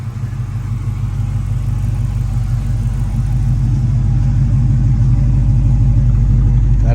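A car engine runs through a Flowmaster exhaust, giving a loud, close, deep burbling rumble that holds steady and swells slightly as it goes, with no voices.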